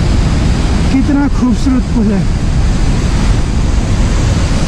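A glacier meltwater stream in the Valley of Flowers trek area, Uttarakhand, rushes in a constant loud wash of water noise near the microphone, with someone speaking briefly over it.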